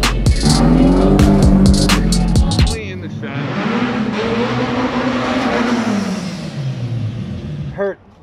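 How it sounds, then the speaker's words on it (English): Drift car engine revving hard while the car drifts up a ramp at a shop, loud and close with rising and falling engine pitch, sharp clattering impacts early on, and people talking. "He's drifting up the ramp on that wheel."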